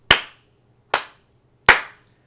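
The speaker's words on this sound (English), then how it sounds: "Trennia's focus on the ring was broken by several loud claps." Three loud, sharp hand claps spaced slowly and deliberately in a quiet forest setting at dusk, each crisp and close, with short decaying tails and silence between.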